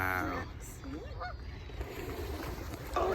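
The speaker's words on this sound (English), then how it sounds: "Thousands of ducks. That's a lot of ducks." A large flock of wild ducks at a Barrie city waterfront calls with honking, quacking cries close by, while faint voices mix in under the birds.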